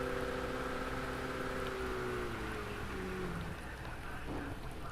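Steady rain hiss in a racing video game, blended with a droning car engine whose tone slides downward, continuous and fairly loud throughout with no talking.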